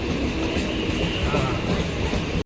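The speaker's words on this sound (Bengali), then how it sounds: "মাঝেরহাট হাসনাবাদ লোকাল এই ট্রেনটা হচ্ছে মাঝেরহাট থেকে আসছে হাসনাবাদ লোকাল" A Majerhat–Hasnabad local train arrives with a dense, continuous rumble of wheels and carriages close by, loud and unbroken until it cuts off sharply.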